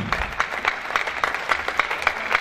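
Church congregation applauding together during a French-language sermon, a steady patter of many hands clapping with rhythmic swells, fairly close and filling the room.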